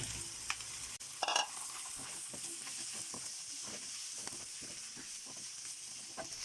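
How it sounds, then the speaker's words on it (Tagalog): Baguio beans hit a pan of sautéed onion and garlic for a pork dish, a steady sizzle with a brief clatter early on and repeated stirring scrapes, no talking. "Pwede na po nating ilagay yung Baguio beans."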